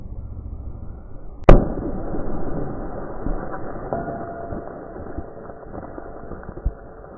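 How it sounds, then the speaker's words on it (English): A dropped, slushy Linex watermelon bursts open with one sharp, loud crack, followed by a scattering rumble of debris and a later smaller thud. "oh, it pretty much explodes"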